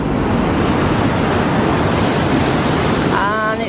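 Loud, roaring rush of water at Niagara Falls, a dense, constant wash of noise close by with wind buffeting the microphone.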